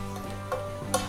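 A garlic dish with wine and lemon juice sizzling in a pan, a steady crackling fry with a few sharper spits and a stirring scrape, under a low background hum.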